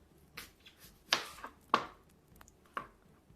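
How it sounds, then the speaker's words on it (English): A knife chopping an onion in half on a cutting board: a few quiet, separate cuts and taps, sharpest near the middle, spaced irregularly with soft pauses between, close and faint. "Chop that onion in half."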